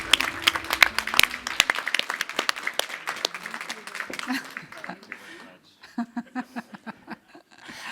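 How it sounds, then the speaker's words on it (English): An audience at a congratulations ceremony during a campus event applauds in a dense, loud burst of many hands that thins out after about five seconds, followed by a few scattered claps and a voice speaking near the end. "A big round of applause to all of you."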